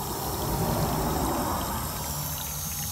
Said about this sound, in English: our fitting is shooting water